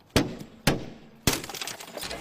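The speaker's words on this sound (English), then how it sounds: "tapes the window to minimize glass shatter and noise." Window glass shattering in a home break-in, the window taped over beforehand to limit the shatter: three sharp, loud breaking impacts about half a second apart, the last trailing into a longer crackle of falling fragments.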